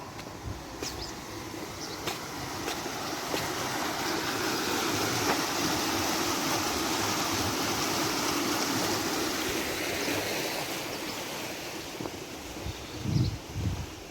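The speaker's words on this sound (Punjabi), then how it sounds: "ਇੱਧਰ ਜਗ੍ਹਾ ਆ ਪਾਣੀ ਚੱਲਿਆ ਵਾ" Stream water flowing beside a village road in France, a broad steady rush that swells through the middle and holds without a break, fairly close, with faint rustling and some wind over it and no talk.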